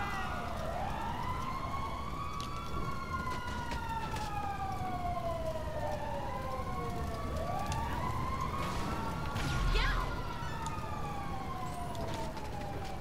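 A wailing ambulance siren in the video game Grand Theft Auto Online sweeps up and down repeatedly, loud and close, over a steady background rumble with no speech.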